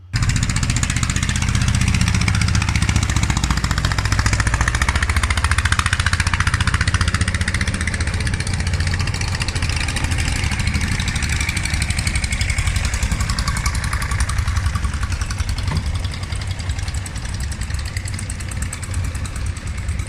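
A steady, loud engine drone runs throughout, a low rumbling motorboat motor idling or cruising close by on a canal leading to Inle Lake, Myanmar, with no voices.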